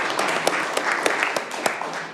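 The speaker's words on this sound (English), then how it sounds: "And you guys can clap for them as they come up" Audience at a county board of commissioners meeting clapping for award recipients, a moderate patter of hands in a room with scattered sharper claps, fairly close and steady.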